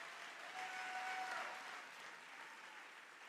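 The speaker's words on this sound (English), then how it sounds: "let's give him a big round and a big round of applause for that" A large political conference crowd at CPAC gives sustained applause, a dense, even wash of clapping heard from some distance that swells slightly and then holds steady.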